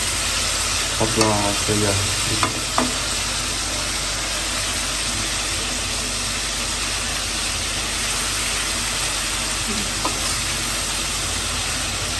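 Quartered onion pieces sizzle and crackle steadily in a hot pan of spiced curry base, with a few short clatters of utensils near the start and a constant low background hum.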